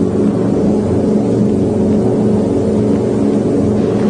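Boeing B-17 Flying Fortress bomber engines running at about 1400 RPM, a loud, constant, low droning roar with no breaks and no audible talk.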